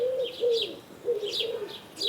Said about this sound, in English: The wood pigeon is the most common kind of pigeon in the UK. Its distinctive cooing call makes it really special.